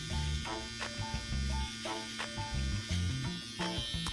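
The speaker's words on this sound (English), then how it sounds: "I can just put a straight line in using my trimmer" An electric beard trimmer buzzes close up while edging a mustache, its steady hum broken by short clicks and scratchy passes across the hair, fairly quiet.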